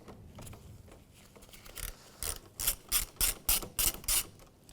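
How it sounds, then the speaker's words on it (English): A hand ratchet with a 10mm socket loosens the negative battery terminal on a 2011-2016 Hyundai Elantra, giving a quick run of about eight sharp, close clicking bursts after a quieter start. "I'm going to do that with a 10mm socket."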